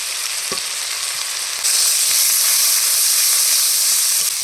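Onion paste and ginger-garlic paste hit hot oil in a pan for a Bengali prawn malai curry, giving a loud, steady sizzle that swells sharply partway through and then holds a dense, hissing frying roar with no talk.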